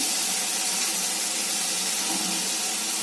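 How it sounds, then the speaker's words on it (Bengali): Water poured into a pan of fish curry, a loud steady rushing splash close by that continues without a break, no voices. "একটু জল তুলে দেবো"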